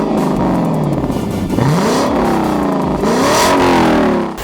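A Lexus LC500's 5.0-liter naturally aspirated V8 revs loudly up and down through several sweeping climbs, close by and with no talk over it.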